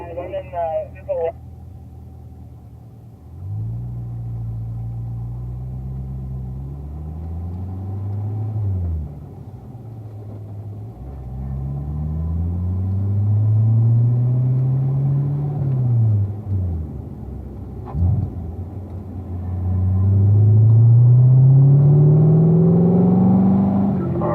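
Car engine driving laps around a track, a low rumbling drone with repeated rising and falling revs as it accelerates and eases off, close and steady, with someone talking over it for most of the stretch.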